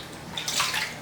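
Soy sauce pouring into a measuring cup, a brief close liquid splash and gurgle that swells midway through the second.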